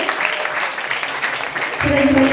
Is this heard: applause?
yes